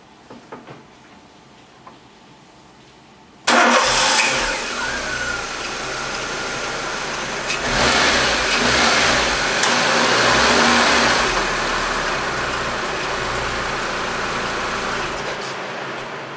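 A Renault Duster engine cranks and catches after a spark plug and coil service, then runs and revs steadily up close, loud and continuous for over ten seconds with no talk.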